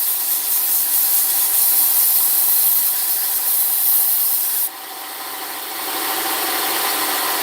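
A knife blade is sanded close up with a continuous, loud, gritty rubbing hiss that drops in intensity partway through and then carries on more softly.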